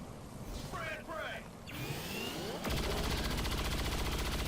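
XCOM 2 gunfire: a burst of sharp mechanical shots and whooshing effects, followed by a loud rapid rattling fusillade that dominates the last couple of seconds.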